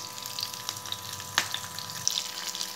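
Tempering spices for a raw banana curry sizzle in hot oil, a continuous close crackle with a few sharper spits and pops over a faint low hum and no voices.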